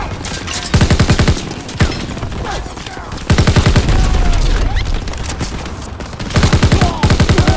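Automatic machine gun fire in Call of Duty: WW2 during a Rhine mission push toward a tower, loud rapid bursts repeating in several clusters over a busy battlefield din of explosions and shouted voices.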